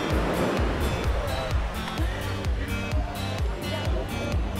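Ocean waves roll and wash steadily onto a sunny beach in Antigua, a continuous loud rush of surf with regular surges and no voices.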